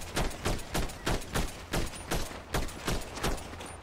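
Video game gunfire during a GTA roleplay prison-transport breakout: a steady series of about ten loud, evenly spaced shots, roughly two per second, with no voices.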